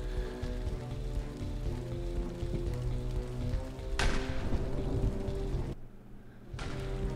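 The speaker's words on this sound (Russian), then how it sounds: "тут опять с водой дождь уже у нас" Steady rain in the World War trench-combat game Trenches of War: a continuous dense hiss of raindrops over a low rumble of ambient game noise. The rain drops out abruptly for a moment before resuming.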